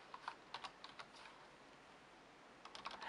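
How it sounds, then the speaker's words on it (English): Quick, light keystrokes tap on the keyboard of a Samsung Series 7 Slate running Windows 8, in two short bursts separated by a quiet pause, close and fairly soft. "all I have to do is pull out my keyboard and I start typing"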